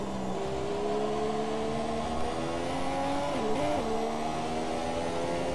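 A Formula 1 car engine in the F1 2017 racing game, a worn car at the Bahrain Grand Prix, drones steadily at high revs, with the pitch rising smoothly and then dipping briefly at a gear change.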